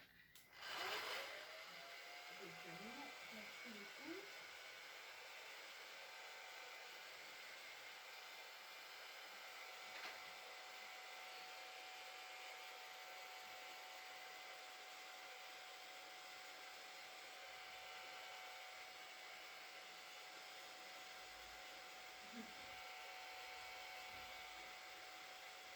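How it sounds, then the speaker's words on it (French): A hair dryer blows steadily and close on a handmade craft Christmas tree for about twenty-five seconds, a continuous airy whoosh with a motor whine and a brief click at the start. "Un sèche-cheveux du coup."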